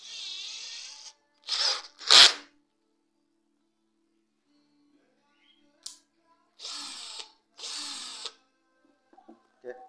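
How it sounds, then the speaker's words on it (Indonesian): Several short bursts of a power drill whirring into wood, separated by pauses, with a faint clatter near the end. "Oke, mulai kita bor."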